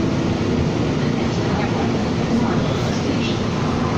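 Interior ride noise aboard a Calgary Transit CTrain light rail train on the Northeast line, a steady loud rumble and hum of wheels and motors with no breaks.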